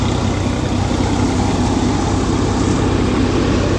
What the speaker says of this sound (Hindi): एक नंबर ट्रैक्टर चल रहा है सिक्का बंद सवरा 855 है भाई